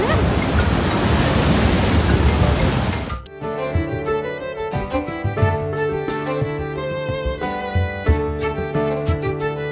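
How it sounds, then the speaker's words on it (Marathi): Strong sea waves at a Goa beach crash as loud, broad surf noise for about three seconds, then cut off abruptly and give way to music. "किती जोरात लाट आहेत ना."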